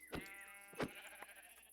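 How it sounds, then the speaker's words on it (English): Sheep in the Minecraft video game bleat twice, a pair of short wavering baa calls a little over half a second apart, faint against a quiet background with a soft click after. "I'm gonna kill these two sheep and dip."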